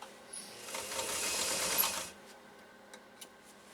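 A Singer 192K Spartan sewing machine drives through thick layers of genuine leather in a loud, steady burst of rapid stitching lasting about two seconds, then stops, leaving a few faint clicks and taps.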